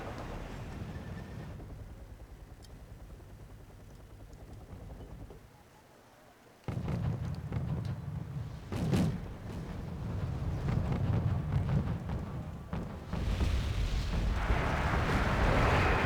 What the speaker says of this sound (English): See a little bit of a mortar exchange here as these Rangers get blasted.